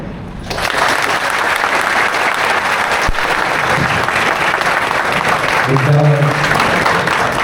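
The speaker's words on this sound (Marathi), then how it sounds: "पुन्हा मी म्हणेन की जोरदार टाळ्यांचा गजर झाला पाहिजे." A lecture audience at a large motivational event breaks into loud, sustained applause that fills the room, beginning abruptly and continuing steadily, with a brief voice showing through near the end.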